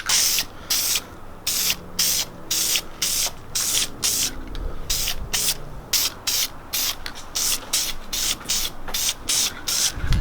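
Repeated short hissing bursts of a spray paint can, about two dozen sprays in quick irregular succession, close and fairly loud, while painting a Lexus IS300.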